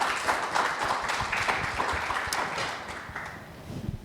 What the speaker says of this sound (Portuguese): temos o grande Samir Karimo, uma grande salva de palmas